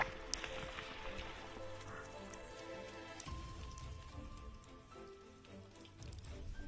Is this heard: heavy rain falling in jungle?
yes